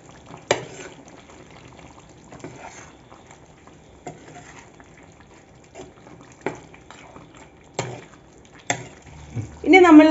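Chicken curry gravy stirred in a pan, soft scraping and thick liquid sloshing in scattered strokes, fairly quiet and close, ending in a louder burst of movement.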